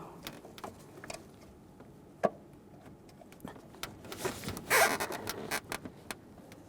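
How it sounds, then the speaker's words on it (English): A 1/4 inch ratchet snugs the intake manifold bolts on a 2012-2018 Nissan Altima 2.5L four-cylinder, giving quiet, close, rapid clicking bursts with short pauses between strokes. "Just make sure they're snug with a 1/4 inch ratchet here."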